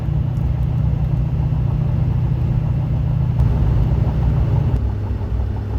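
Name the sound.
car decelerating, Allison transmission downshifting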